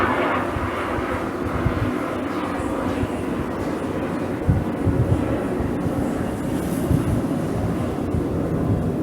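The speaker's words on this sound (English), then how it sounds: "You have to wait for the airplane to pass." A broad, steady engine rumble drones throughout, like an airplane passing overhead, loud and continuous with no voices.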